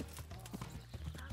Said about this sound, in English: you just ride across with your horse